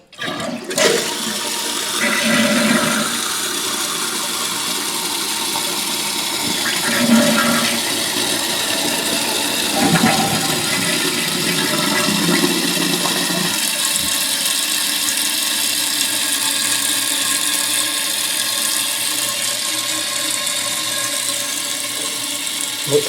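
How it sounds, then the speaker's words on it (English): A household toilet flushes after a fill valve repair, the rush of water swirling and draining loudly and steadily for over twenty seconds, then the tank refilling with a hiss, with faint mechanical clicks in the bowl. "Let's do a test flush."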